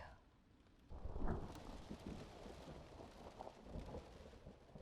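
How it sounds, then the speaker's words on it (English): Thunder rolls outside a stadium, a low muffled rumble that swells after a quiet start and then keeps grumbling softly with a light patter of rain, heard faint and distant. "The thunder outside the stadium?"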